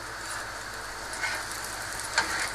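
Qeema paratha, a Lahori-style flatbread stuffed with minced meat, fries in a pan with a steady, close hiss of sizzling and a couple of brief crackles.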